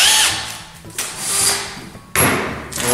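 A power screwdriver drives screws into wood in bursts, three whirring runs with brief pauses between them, close and fairly loud, ending in dull thumps as the screws seat.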